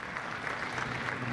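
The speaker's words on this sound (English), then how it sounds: "I think we need to give her a round of applause." Audience applause at a conference sponsor presentation, a dense steady clatter of clapping filling the whole short moment at moderate volume with no voices on top.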